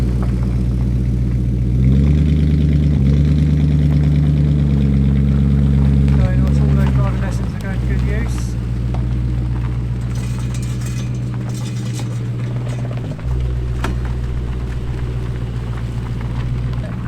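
A modified Honda Civic engine holds a loud, sustained rev for a burnout, the steady drone shifting pitch several times across the run with brief dips in between.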